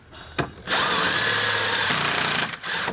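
A power drill driving a self-tapping screw to mount a ground wire to a 2015 vehicle's firewall, a short tap then a loud close whirring run of about a second and a half, ending with a brief final burst.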